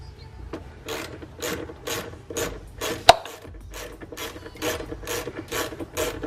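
Ratchet wrench turning out screws on a BMW X5 crankcase vent hose, a steady series of about a dozen rhythmic clicking rasps close up, with one sharp metallic tick midway.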